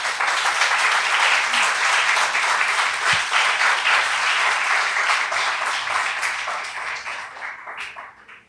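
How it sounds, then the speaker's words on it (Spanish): A congregation breaks into sustained, loud applause at a Spanish-language church service, dense clapping holding steady for several seconds before gradually thinning and fading out near the end. "Dale un fuerte aplauso a Dios"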